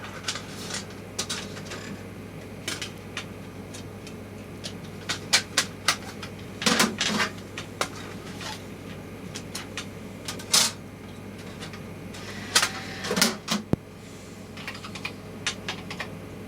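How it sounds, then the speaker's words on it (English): Floppy disk drive reading during a Windows 95 installation, giving faint scattered clicks and short buzzy seeks over a steady low hum, irregular across the stretch, no talking. "Now that sounds very like the disks, the floppy disks."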